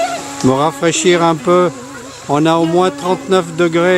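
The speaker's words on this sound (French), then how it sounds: "c'est le bruit des cigales" Cicadas keep up a steady, high-pitched buzzing drone in hot weather, running constantly beneath people chatting loudly in the foreground.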